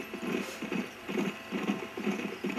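Horse hooves clip-clop in Red Dead Redemption, a steady rhythmic trotting of paired hoofbeats repeating about every half second, close and moderately loud with a faint game ambience behind.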